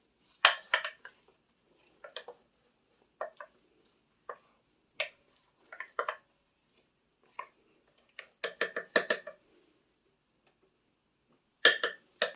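Ingredients for barbecue shredded pork, with tomatoes and barbecue sauce, are stirred in a crock pot: irregular clinks and scrapes of a utensil against the pot come in short bursts separated by quiet gaps.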